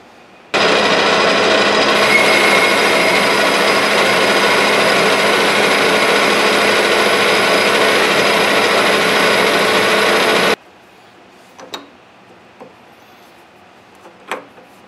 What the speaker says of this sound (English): I'm going to counterbore this side, and we're only going to tap that last inch